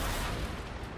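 Dense, continuous rumble of tank cannon fire and explosions in a World of Tanks–style urban battle on the Himmelsdorf map, filling the whole moment loudly with no talk over it.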